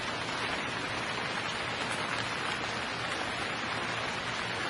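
Steady rain pours down in a night street scene of the video game Gemini Rue, a dense, even hiss that holds unbroken throughout with no voices.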